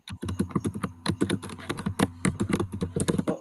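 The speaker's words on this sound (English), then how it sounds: "Who is typing like that?" Rapid typing on a clicky computer keyboard, close and crisp, with hard, fast keystrokes in an uneven but almost continuous stream.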